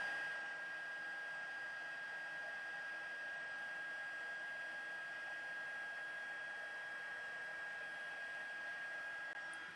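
A heat tool blows steadily on embossing powder over a heart-shaped card piece, a constant whooshing hair-dryer-like drone at moderate level with no speech.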